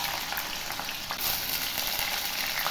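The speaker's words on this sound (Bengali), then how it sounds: "তেলটা ভালো করে গরম হয়ে গেলে প্রথমেই পনিরটাকে ভেজে নেব।" Paneer frying in hot mustard oil in a pan, giving a steady, dense crackling sizzle that runs loud and unbroken for a few seconds with no talk.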